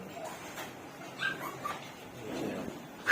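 Two-day-old Chihuahua puppies give faint, scattered whimpers and small yips, with a slightly louder cry at the very end, over a quiet background.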